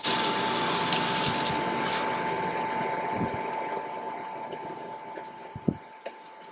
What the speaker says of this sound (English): I'm going to just add some hot water.